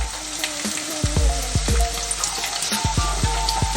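Cauliflower florets, soaked in hot water, tipped into a pan of frying onions for a cauliflower masala, giving a steady close sizzle with wet splashes and a few clattering thumps as the pieces land and get stirred.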